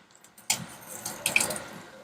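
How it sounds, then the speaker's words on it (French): Melted bacon fat is poured out of a pan in short liquid splashes and trickles, with two brief louder pours close by and no talking. "On va enlever le gras de la casserole."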